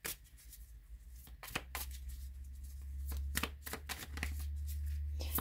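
Tarot cards shuffled and drawn in a series of crisp, quick riffling and snapping bursts, close and fairly loud, alternating with brief pauses over a low steady hum; no talking.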